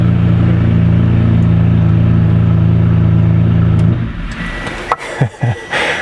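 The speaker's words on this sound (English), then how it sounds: "you've just heard a straight piped 599" A straight-piped Ferrari 599 GTB V12 idles loudly and close with a deep, steady, rumbling drone, then shuts off abruptly, leaving a few faint clunks and ticking noises behind.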